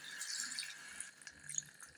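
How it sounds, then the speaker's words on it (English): Water poured into a cassava and corn banku mixture makes a faint, steady liquid trickle with a few small splashes and drips, heard alone with no talking. "So what I'm going to do is I'm going to pour some water."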